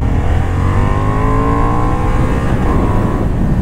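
A Honda Hornet motorcycle engine roars loud and close, its pitch rising and falling through revs with no pause.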